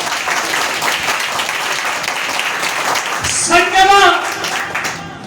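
A church congregation claps loudly together in a dense, sustained burst of applause, and then a voice speaks over the tail end as the clapping fades.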